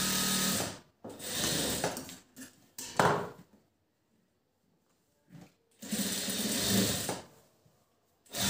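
A sewing machine stitches a blouse in fast bursts, loud whirring runs broken by pauses, with a long quiet gap midway before the motor starts up again.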